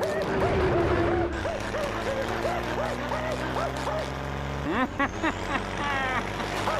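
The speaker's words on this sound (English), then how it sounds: "In this exact episode, we see something incredible. Flats is driving a garbage truck." Garbage truck in a SpongeBob cartoon episode, its engine droning steadily with a hiss of air brakes and a sharp squeal near the end, loud and close with no talking.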